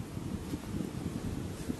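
Wind blows outdoors beside a river near a windmill and ethnographic village in Lithuania, a steady buffeting roar hitting the microphone with no talk.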